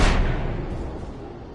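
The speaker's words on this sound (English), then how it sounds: "I just went for explosions that time" An explosion in the video game Alan Wake, a loud deep boom at the start that rolls into a long rumbling decay, with no talk.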